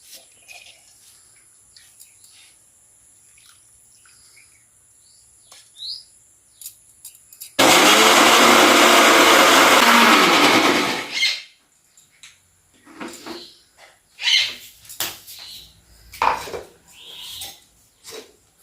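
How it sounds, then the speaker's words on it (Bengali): A mixer grinder in a village kitchen whirs soaked rice and lentils into idli batter, a loud steady roar lasting a few seconds before cutting off, with faint birdsong before and after. "নিয়ে এবারে মিক্সিতে পেস্ট করব"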